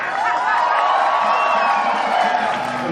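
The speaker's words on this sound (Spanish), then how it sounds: "Los saludamos con un fuerte aplauso." A large crowd at a gathering for Monseñor Romero cheers and whoops loudly and continuously, with shouted voices and applause blending into a dense, sustained roar.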